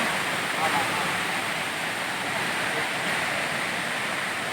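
Steady, broadband rush of a waterfall, loud and continuous, with a close, constant roar at an outdoor falls in Thailand.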